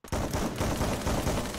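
Dense automatic gunfire from the Garena Free Fire battle royale game, rapid continuous shots loud and close for nearly two seconds with no talk over them.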